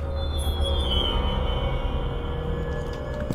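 In the Evil Inside video game a train pulls in with a steady low rumble and a thin, drawn-out wheel squeal, loud and continuous, with no voices.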